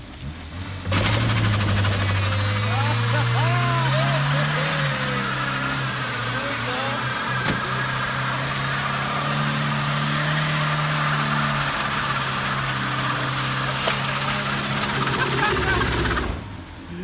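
A car engine, an Acura RSX with a turbo, roars steadily at high revs during a burnout for a long stretch, its pitch rising and holding, loud and close with faint voices underneath.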